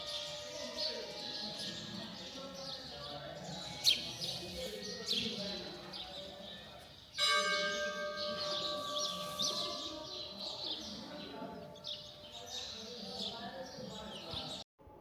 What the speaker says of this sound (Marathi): तर तुमच्या लक्षात येईल की त्या चिमण्यांचा खूप आवाज येतो आहे